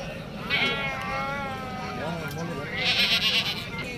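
Goats bleat repeatedly at a livestock market, wavering calls layered over a busy crowd of people talking nearby.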